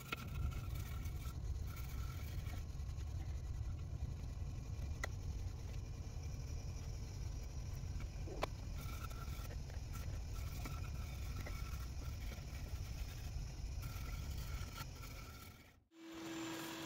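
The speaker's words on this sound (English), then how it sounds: "Using my rigid oscillating sander here to clean up the edges" A Ridgid oscillating sander smooths the edges of a live-edge maple charcuterie board, giving a steady, continuous motor drone with a rough sanding hiss that runs unbroken for about fifteen seconds before briefly cutting out.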